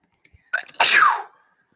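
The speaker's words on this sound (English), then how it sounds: "Hold on, I'm going to sneeze." A single sharp sneeze, a brief intake followed by a loud burst, alone in an otherwise quiet room.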